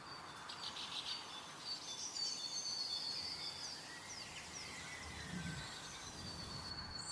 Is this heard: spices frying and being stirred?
no